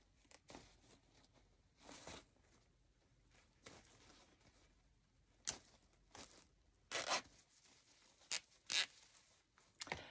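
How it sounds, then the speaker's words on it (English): A plastic zip tie is ratcheted tight while fastening decorations to a grapevine wreath, giving a run of short scratchy zipping bursts, close and fairly quiet, with brief crinkles and scrapes between pulls and no talking. "I'm going to take another zip tie behind it, and that's what I'm going to fasten it to the grapevine with"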